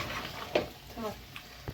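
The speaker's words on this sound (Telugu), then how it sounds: "ఇప్పుడు మ్యారినేట్ చేసుకున్న చికెన్ వేసుకొని బాగా కలుపుకోవాలి" Marinated chicken is stirred in masala in a pan, with a continuous low sizzle broken by a few sharp scrapes and clinks of the spoon against the pot, close by and without talk.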